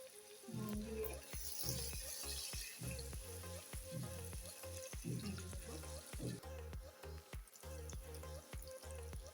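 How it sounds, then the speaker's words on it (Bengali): Onions fry with salt in a pan for an Old Dhaka chicken tehari, a constant close sizzle cut by regular scraping stirs, with faint tonal music underneath. "আর পেঁয়াজটা আমি ভেজে নিচ্ছি"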